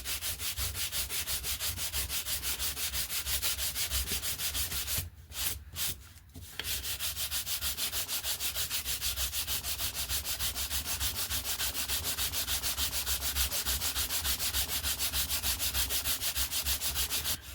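Balsa wood on a hand-built RC Coyote glider fuselage from Slec UK being hand sanded to a taper: a steady, close, continuous rasping rub with a brief pause partway through.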